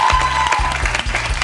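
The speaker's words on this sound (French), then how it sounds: "un beau parcours, Elsa, et on peut vous applaudir" A French TV game show studio audience applauds, producing loud, steady, dense clapping over a pulsing low musical beat.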